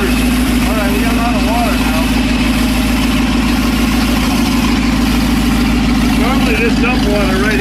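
Engine idling steadily on a test bench with its carburetor set up and water pumped through to cool the exhaust, a constant loud drone throughout with people talking over it.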